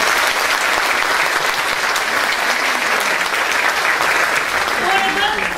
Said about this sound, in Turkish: Canla başla çalışan doktorlarımıza da kocaman bir alkışlar.